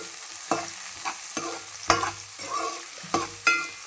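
Onions and green chillies sizzle in hot oil in a pan for chicken gravy, with several distinct scraping stirs at uneven intervals over the steady frying.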